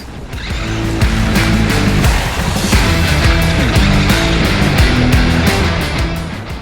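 A Losi Lasernut RC car driving hard off-road, its electric motor whining loud and close with wavering pitch as it steers left and right, with no voices over it.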